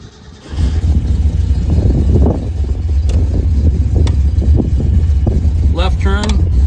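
A fuel-injected 1966 Mercury Comet Cyclone GT convertible engine cranks and catches about half a second in, then settles into a loud, steady idle while someone talks over it.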